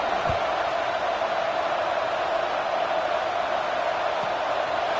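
Steady crowd noise fills a college football stadium, Kansas State against Maryland, just before a kickoff, a broad continuous roar holding level throughout with no clear speech on top.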